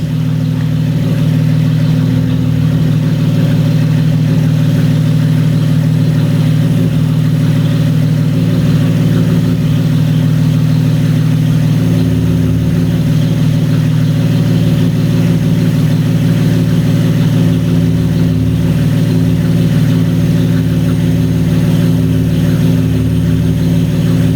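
A Chevrolet Camaro V6 engine with an intake manifold spacer idles steadily and loudly up close, a deep continuous rumble with a low throb that holds even throughout, no voices.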